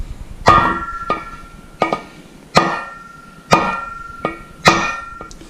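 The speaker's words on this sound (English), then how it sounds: "I don't see how you could hammer that down without that breaking." Hammer blows strike a part of a velvet swivel chair during assembly, seven sharp ringing knocks in an uneven rhythm, loud and close with no talk.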